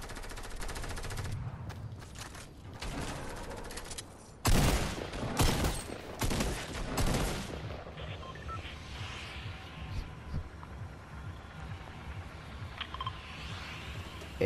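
Rapid bursts of video game gunfire crackle in clusters during a duo match, the loudest volley near the middle. Quieter clicks and faint background noise fill the gaps after it.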